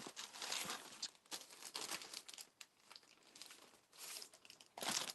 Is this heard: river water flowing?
no